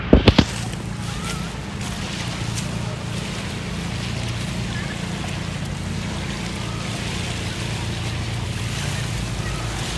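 Steady wash of ocean waves at a rocky shore in Laiya, Batangas, with breezy wind, beginning with a few sharp knocks up close.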